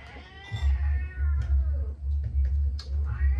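A cat meows repeatedly at close range, giving drawn-out, insistent cries in quick succession with brief pauses between them.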